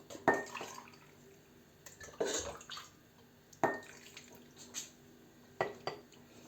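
Marinade is poured into glass jars layered with sweet-and-sour tomatoes, giving several short splashing pours with glassy clinks between them, close and fairly quiet.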